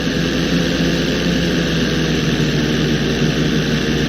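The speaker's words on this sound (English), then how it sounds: "When you're fully inverted, then roll the plane over." Stunt plane engine in the game GTA V during an aerobatic roll, a loud, steady droning roar with a constant low-end rumble and no voices over it.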